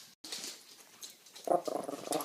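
Pet dogs in a home kitchen give short, close growls and whimpering yips in bursts, fairly quiet, with no one talking.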